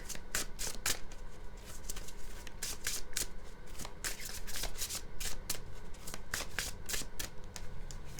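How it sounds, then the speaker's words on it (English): Cards being shuffled and drawn from a Mystical Wisdom Oracle deck during a tarot-style reading: steady close riffling and flicking of card stock throughout, with repeated sharp slaps of cards, no talking. "I'm going to draw one more from this deck."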